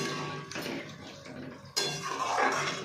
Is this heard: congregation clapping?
no